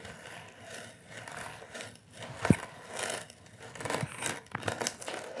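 An auger bit turns through wood as it cuts a clean rim on the second side of a hole, giving a steady rustling, paper-like shaving sound with rhythmic swells and one sharp crack, close and alone with no talk.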